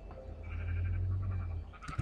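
A sheep bleats in the Minecraft video game, one drawn-out bleat that ends with a short, brighter cry, quiet and alone over faint background.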